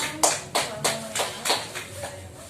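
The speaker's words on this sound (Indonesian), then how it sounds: "Beri tepuk tangan." Children clap together in a classroom, six distinct rhythmic claps in unison spaced about a third of a second apart, close and clear with little else around them.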